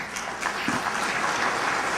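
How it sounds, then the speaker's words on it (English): Steady applause from an audience at an American Pakistan Chamber of Commerce event, a dense, even wash of clapping hands that carries on without a break for a couple of seconds. "Give them all a very large applause."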